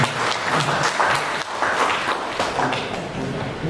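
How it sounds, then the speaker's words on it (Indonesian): Audience applause at a legal outreach event on land law in Jakarta, a dense, steady round of clapping from a crowd filling the room. "Tepuk tangan buat Pak Profesor."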